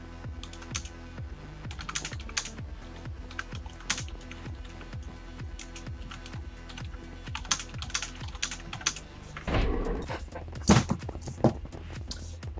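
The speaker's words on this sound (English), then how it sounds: "forgive me for the crap typing" Rapid clattering keystrokes on a computer keyboard, close and steady for the whole stretch, with a brief louder bump partway through and no speech.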